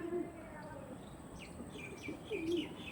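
Pigeons kept for sale coo softly at close range, low repeated calls rising and falling under a faint, steady background hiss.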